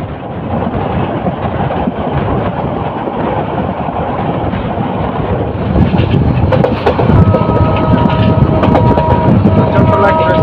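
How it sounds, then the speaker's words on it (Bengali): Chottola Express, a Dhaka to Chittagong train, running at high speed with a loud continuous rumble and rushing wind noise, the roar swelling and growing brighter toward the end as faint tonal whines appear. "ট্রেনটি প্রচণ্ড গতিতে সামনের দিকে এগিয়ে চলছে"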